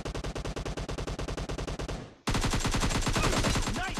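Rapid automatic gunfire in PUBG Mobile, a steady string of sharp shots for about two seconds, a brief gap, then a denser, louder burst of fire.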